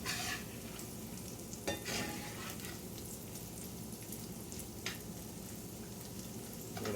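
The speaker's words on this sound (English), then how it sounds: "sizzling pretty good, getting fairly golden brown" Okra frying in a pan on an electric stove, a steady close sizzle that runs unbroken throughout, with faint stirring and scraping clicks now and then.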